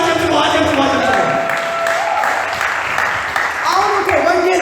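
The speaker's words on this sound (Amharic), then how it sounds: "እስኪ አጨብጭቡ አጨብጭቡ አጨብጭቡ።" A church congregation claps together through a sermon on Daniel's seventy weeks, the dense, steady applause filling the hall alongside a preacher's voice and crowd noise.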